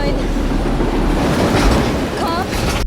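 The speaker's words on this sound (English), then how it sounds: "Oh, it's the train from his dream." A train rushes past in a scene from the film Inception, a loud continuous rumbling roar with rail clatter filling the whole stretch, with faint voices and score mixed underneath.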